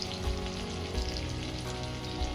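Onion, ginger and garlic sauté in a pan for an egg and vegetable rice dish, giving a steady, close sizzle with a crackling hiss that runs unbroken throughout.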